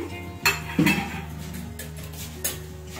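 Turmeric goes into a pot of mixed vegetables for Bengali Pachon, followed by a few close metallic clinks and scrapes of a spoon against the pot, spaced irregularly over a quiet kitchen hum.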